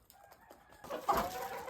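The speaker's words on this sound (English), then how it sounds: "This partridge hen" A partridge hen clucks softly in short bursts, then a louder squawk rises over rustling, close by and fairly quiet.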